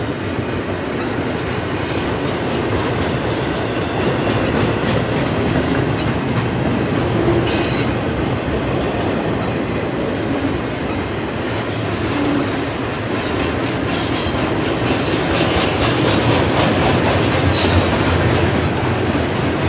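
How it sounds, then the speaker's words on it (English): A very long freight train with mid-train distributed power units rolls steadily past at close range, a continuous loud rumble of wagons with occasional wheel squeal and clickety-clack of rail joints, no talk. "This might be the longest train ever."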